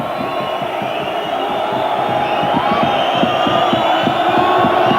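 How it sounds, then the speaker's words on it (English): A packed rugby league stadium crowd at a Leeds versus Wigan match jeers and whistles at a goal kicker lining up a conversion, a loud continuous roar with rhythmic rising chanting. "The Leeds crowd doing their best to put him off."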